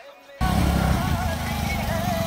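A motorbike engine fires up after a quiet moment and keeps running loud and close, a steady rumble with voices faintly underneath.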